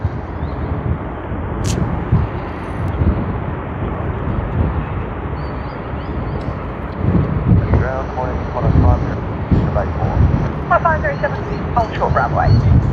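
A United Airlines jet rumbles at Sydney Airport, a broad, steady engine roar mixed with wind buffeting on the microphone, moderately loud and continuous, with a voice talking over it.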